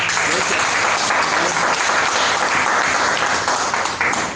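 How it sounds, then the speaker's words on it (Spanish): A church congregation applauds loudly and continuously at an evening service, a thick, even wash of many hands clapping that holds throughout and eases slightly at the end. "denle un aplauso a Jesús"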